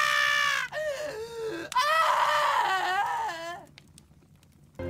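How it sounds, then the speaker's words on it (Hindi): Dramatic screaming and wailing rising from a well in a Hindi folk tale, a loud close voice shrieking in sliding, drawn-out cries that break off, then quiet near the end. "उसके ऐसा करने पर कुएं से भयानक शोर और चीख पुकार सुनाई दी।"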